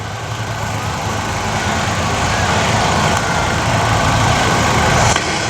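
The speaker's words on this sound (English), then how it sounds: "We've got an M32 recovery tank based on the Sherman tank behind, seeing how quick they can whip across the arena here" Tracked military vehicles, an M36 Jackson tank destroyer and a Sherman-based M32 recovery tank, rumble across an arena with loud, steady heavy engine drone that builds slightly as they approach.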